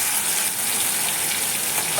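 Vegetables for masale bhat fry in a pan with a steady, dense sizzle, close and constant throughout, and no voices.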